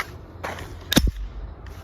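A real rifle's action is worked by hand, a quick sharp metallic clack with a second click right after, close and loud against a quiet background.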